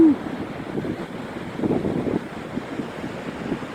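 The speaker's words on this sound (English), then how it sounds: "Mighty waves." Ocean waves surge up to the seawall at Daytona Beach, a steady broad wash with a louder swell around the middle, mixed with wind noise on the microphone.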